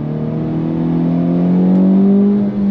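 A Honda Civic Type R GT engine with triple tailpipes holds a steady, throaty exhaust note that rises slightly in pitch, loud and close, with no voices.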